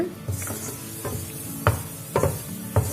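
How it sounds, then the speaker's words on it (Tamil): Cashew nuts frying in a pan until golden brown, with a soft steady sizzle under repeated scraping clicks of a spoon stirring the nuts, several sharper stirs standing out near and moderately loud. "இப்போ முந்திரி நல்லா வறுத்தாச்சு."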